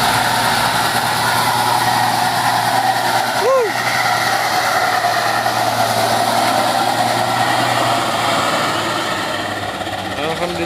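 A brown truck labours up a steep hill, its engine holding a loud, continuous drone close by, with a short rising tonal chirp partway through.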